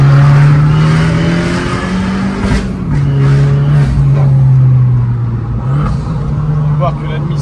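A stage 2+ tuned Abarth with a TBF intake drives with a steady loud engine drone that rises and dips through the gears, recorded close from inside the car with light road noise.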